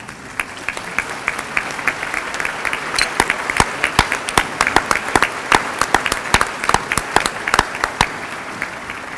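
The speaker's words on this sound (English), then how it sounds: "please stand up so we can give you a round of applause" An audience applauds school staff such as career specialists, coordinators and teachers at an evening celebration of student excellence, steady crowd clapping with sharp individual claps standing out, loud and sustained throughout.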